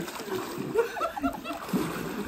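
Faint watery splashes and sloshing as someone lowers into a cold swimming pool at night, with quiet voices murmuring nearby.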